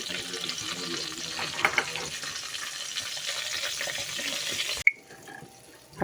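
Garlic cloves and ground spices frying in a pan while being stirred, a soft busy sizzle with scraping that cuts off abruptly near the end, followed by a faint quieter clatter.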